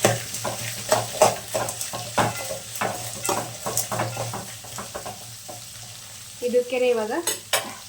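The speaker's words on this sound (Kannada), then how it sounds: "ಇವಾಗ ಇದಕ್ಕೆ ಮೆಣಸಿನ್ಕಾಯಿ, ಈರುಳ್ಳಿ, ಕರಿಬೇವು 3 ಒಟ್ಟಿಗೆ ಹಾಕ್ತಿದ್ದೀನಿ. ಇದೆಲ್ಲ ಚೆನ್ನಾಗಿ ಫ್ರೈ ಮಾಡ್ಕೊಳ್ಳೋಣ." Chillies, onion and curry leaves frying in a pan with soft sizzling under repeated scraping stirs of a spoon, and a brief voice speaking midway.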